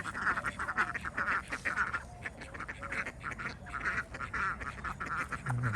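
Several ducks quack in quick, irregular bursts nearby, a busy flock chattering over faint outdoor background noise.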